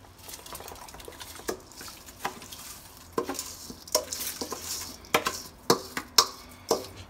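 Rice stirred in a cooking pot, a spoon scraping and clinking against the metal in uneven strokes over a faint sizzle, growing louder and more rhythmic toward the end.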